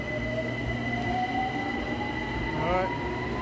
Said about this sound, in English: I'll jump on the train. Looks like it's coming now.